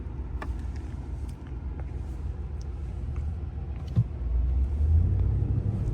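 A pickup truck's engine rumbles steadily as it drives through loose sand in an off-road play area in the USA, then the rumble swells louder near the end as the truck pulls harder.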